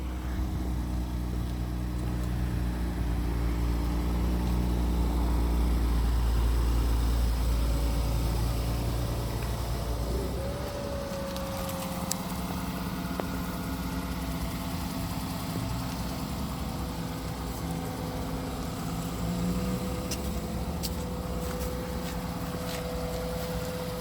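A 2021 Infiniti Q50 Luxe engine running steadily while the car is driven a short distance, a low continuous hum that eases slightly partway through, with faint mechanical and road noise and no talking.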